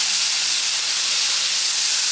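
A beef pot roast searing on high heat in a pan, giving a loud, steady, close hiss of sizzling fat with no talking.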